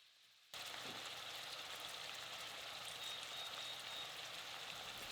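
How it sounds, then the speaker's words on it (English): Pancetta browning in a pan for a ragu, a steady bright sizzle that starts abruptly and then holds evenly, close and alone. "I'm just actually going to be browning it in a pan and then adding in my chili paste."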